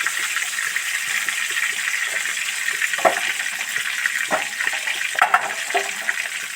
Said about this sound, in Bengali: এবার এই ফুলকপি ভাজা তেলের মধ্যে 2টো তেজপাতা আর 1টা শুকনো লঙ্কা দিয়ে দিচ্ছি।